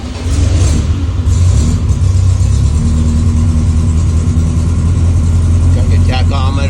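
A 1957 Porsche 356 Speedster widebody replica engine, carbureted, cold-starts and settles into a loud, steady idle with a mid-pitched drone, close by.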